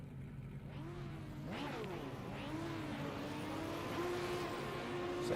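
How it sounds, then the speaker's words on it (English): GT4 race cars in a racing video game sit revving before the start, several engines rising and falling in overlapping pitch sweeps, fairly quiet and building slightly, with a commentator faintly audible. "You can hear the engines revving."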